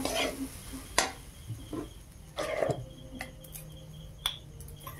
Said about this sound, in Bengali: নারকেলটা এবার ভেজে নেই, পুর পিঠা বানাবো